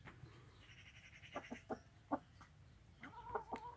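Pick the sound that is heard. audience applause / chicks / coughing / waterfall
chicks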